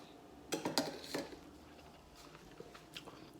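Metal cooking pan clanking in a kitchen, several quick sharp clinks and scrapes in a cluster near the start, then fainter scattered taps, close and fairly quiet.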